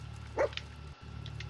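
Dogmeat, the companion dog in Fallout 4, gives one short, faint bark over a steady low hum, followed by a few quieter yips.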